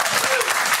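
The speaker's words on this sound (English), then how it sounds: "That is a round of applause." A studio audience at an AFL football talk show breaks into a brief, loud burst of clapping that lasts under a second.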